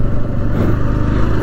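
A 2023 TVS Radeon 110 E20 motorcycle with a 110 cc engine running up close, a loud, steady low engine drone with slight rises in revs as the rider shifts through the gears, with no speech.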